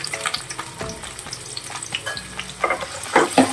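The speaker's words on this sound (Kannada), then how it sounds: "ಅದ್ರ ಜೊತೆಗೇನೆ ಈರುಳ್ಳಿ, ಅದನ್ನು ಕೂಡ ಹಾಕೋತಾ ಇದ್ದೀನಿ." Onions and tempering spices (dried red chillies, mustard seeds, turmeric) frying in oil for a spicy palak gravy, with a steady close sizzle and scattered clinks and scrapes of stirring throughout, no voices.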